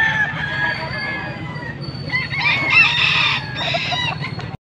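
A young gamefowl stag of Gold bloodline crows nearby, loud and close, giving one drawn-out crow with a few clucks, followed by another crow near the end.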